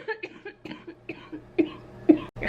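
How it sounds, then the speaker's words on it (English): Several sharp coughs in a row, close and fairly loud, with brief pauses between them and a couple of stronger bursts near the end. "I've only been coughing when I turn on this camera today"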